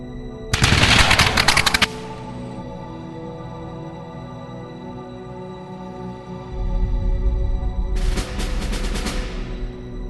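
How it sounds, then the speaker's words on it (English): Two rapid, dense bursts of volley gunfire, like a firing squad at an execution in the Continental Army, separated by a low sustained rumble. "ordered to shoot. This time, the shots find their target."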